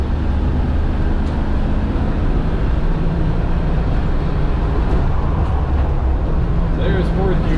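A 1992 Land Rover Defender 110 V8 five-door station wagon cruises in fourth gear, its engine making a steady, loud, continuous rumble throughout with broadband road and wind noise.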